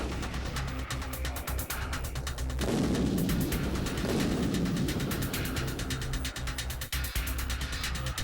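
A 155mm artillery round, a BONUS top-attack anti-armor shell, being fired. There is a loud boom partway through, followed by a rumbling tail, set among repeated sharp mechanical clicks and bangs.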